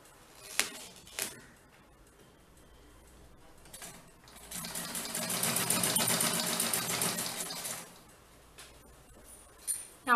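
A sewing machine stitching a doormat made from old cloth runs in one steady whirring burst of a few seconds, with a few soft clicks and handling sounds before and after.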